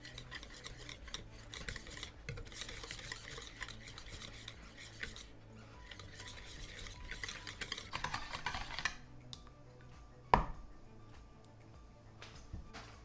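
Eggs for leche flan are mixed in a bowl, a continuous gentle swishing and scraping of a utensil that pauses briefly, then one sharp clink near the end.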